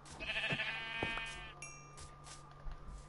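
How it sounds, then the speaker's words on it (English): A sheep bleats near a Dark Oak Forest in Minecraft 1.18, giving a couple of short, wavering nasal cries close by, followed by a few soft game blips and footstep thuds. "Sheep!"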